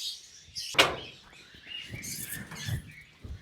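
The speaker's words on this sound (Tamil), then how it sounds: "வாங்க நம்மளுடைய குருவி பண்ணைக்குள்ளார போகலாம்." Small birds at a bird farm chirp and twitter faintly amid light rustling and patter, with one sharp close click near the start.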